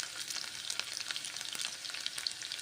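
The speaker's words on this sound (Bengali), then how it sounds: "নেড়ে চেড়ে পেঁয়াজগুলোকে ভেজে নিচ্ছি।" Onions frying and being stirred in a pan, a steady close sizzle with scattered scraping taps from the spatula, and no voices.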